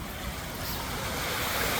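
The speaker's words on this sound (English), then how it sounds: "That water flows in from the dam on the far side up here." Water let out from a dam flows beneath a spot beside a trout farm, a constant broad rushing wash that stays fairly quiet and even and rises slightly toward the end, with no voices.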